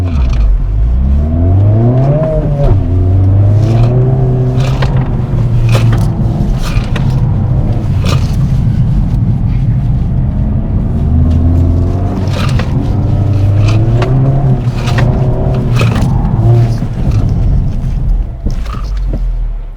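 A white car on Hoosier TrackAttack Pro tires laps a track with a third of a tank and no wheel spacers, its engine loud and continuous, revving up and down through gear changes with tire and mechanical noise throughout.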